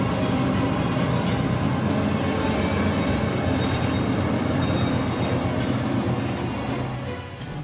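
A train on the Arctic Circle Railway in Norway rumbles past in a steady, loud, close roar of wheels on rails with faint clattering, fading slightly at the end.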